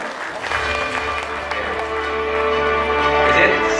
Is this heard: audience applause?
yes